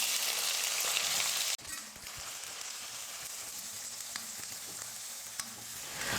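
Small shallots and curry leaves hit hot oil for a fish curry, with a loud hiss that drops suddenly and then settles into a steady sizzle with occasional stirs and no talking.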